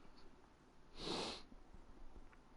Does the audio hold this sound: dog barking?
no